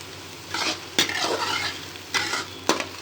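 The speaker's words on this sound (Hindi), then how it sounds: "जब तक हमारा प्याज फ्राई हो रहा है" Chopped onions frying and being stirred in a pan for a white chickpea curry, with a steady sizzle broken by a few sharp scrapes of a spoon against the pan, close and fairly loud, with no voices.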